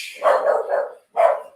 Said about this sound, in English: I start a live video and then they start barking